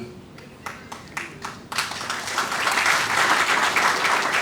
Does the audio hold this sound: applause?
yes